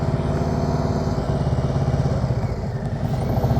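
A motorcycle engine held at raised throttle while riding at slow speed in a practice session, a steady loud rumbling drone with a light clattering texture, close and continuous throughout.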